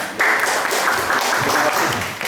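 An indoor audience at an anti-corruption campaign event at the Barito Kuala public works office gives dense, steady applause that fills the whole couple of seconds at an even level.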